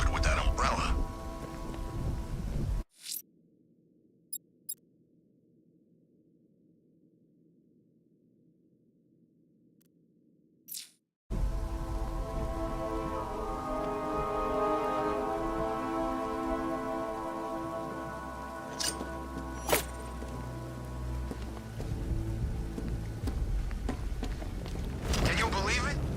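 Steady heavy rain falling in Batman: Arkham Knight, a dense constant hiss with scattered drops and low rumble, interrupted by a stretch of near silence before resuming; a voice talks over parts of it.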